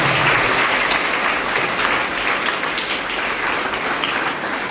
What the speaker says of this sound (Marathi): सगळ्यांनी त्याच्यासाठी एकदा जोरदार टाळ्या वाजवा